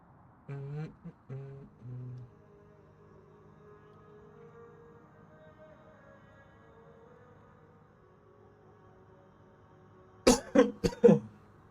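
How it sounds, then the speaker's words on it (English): A few sharp coughs burst out near the close, preceded by brief throat sounds early on, over a quiet room during a casual live stream setup. "I don't know why I'm coughing"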